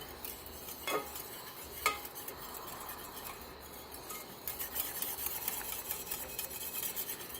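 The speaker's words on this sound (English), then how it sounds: "And you want to keep stirring it because you don't want the milk on the bottom to burn." A spoon scrapes and stirs vanilla custard in a pot, giving soft rhythmic rubbing with two sharper knocks early on, quiet and close, with no talking.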